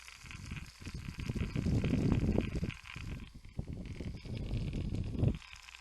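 A noisy fan runs with a steady rumbling whir, its loudness swelling and dipping, with a few rattling knocks mixed in.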